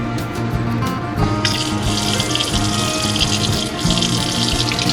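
Cold water gushes steadily from an RV faucet set to water heater bypass, a continuous close rushing flow that grows brighter and stronger partway through, with no talking.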